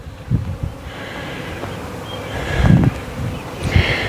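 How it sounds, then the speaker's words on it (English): Honeybees buzz around two new hives in a garden. The drone is steady and fairly close, rising and falling as insects pass, with light wind and rustling underneath. "but they're buzzing along."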